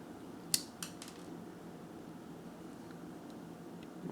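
A SOG Pocket PowerPlier cuts through 16 gauge stranded wire with one sharp close snip, followed by a couple of faint metallic clicks in an otherwise quiet room.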